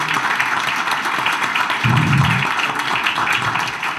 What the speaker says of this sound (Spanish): Así yo les pido un aplauso para agradecerle la presencia.